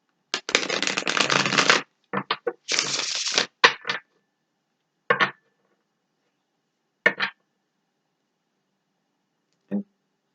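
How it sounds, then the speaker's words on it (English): Gilded Tarot cards being shuffled by hand, several bursts of riffling and card slaps, the first two long and dense, then shorter scattered taps and flicks separated by silence, close and fairly quiet. "So we're going to shuffle."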